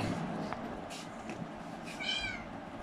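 A cat at a vet clinic in Dhaka gives a few soft, fairly distant meows, with one clearer rising meow near the end over quiet room noise.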